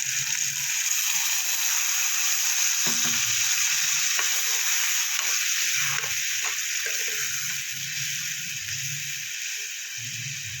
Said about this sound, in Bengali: আলুটা ভাজা হয়ে গেছে অনেকটাই এবার আমি দিয়ে দেবো মশলাটা